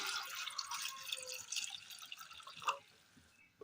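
Water poured into a cooking pan of chopped colocasia (taro) on the stove, a short close splashing trickle that tapers off, with no talk over it.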